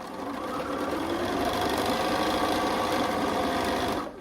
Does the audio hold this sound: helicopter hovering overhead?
no